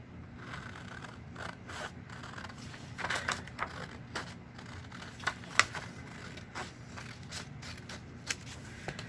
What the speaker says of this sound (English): So we're going to cut right on that line.